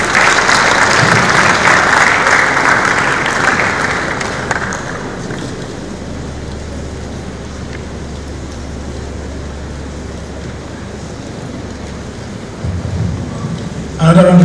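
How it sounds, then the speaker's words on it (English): Audience applause at a university inaugural lecture, a dense loud crackle of clapping in the first few seconds that fades into a quieter room murmur, with voices nearby. "Another round of applause for that beautiful"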